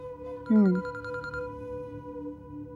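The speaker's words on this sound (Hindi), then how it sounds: "आपा का फोन आ रहा है, वो बहुत देर से कॉल कर रही हैं।" A phone rings with an incoming call in a Pakistani drama scene, a short bright warbling ring tone standing out clearly over a quiet background.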